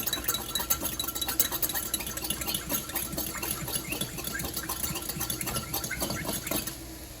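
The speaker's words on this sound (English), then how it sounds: "mix the cornstarch with a fork so it dissolves" A fork whisks cornstarch into liquid for a shrimp and broccoli stir fry sauce, making a quick, continuous, close scraping and clinking rattle against a bowl that stops abruptly near the end.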